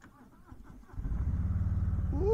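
A 2020 Harley-Davidson Softail Low Rider (FXLR) motorcycle engine cranks and catches at close range, settling into a deep, pulsing rumble that builds in loudness, with a brief voice near the start.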